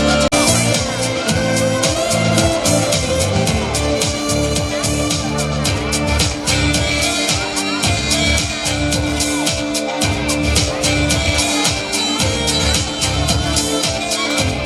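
A crowd at a festive gathering cheers, whoops and claps loudly and continuously, a dense steady roar with shouts mixed in and a voice urging them on.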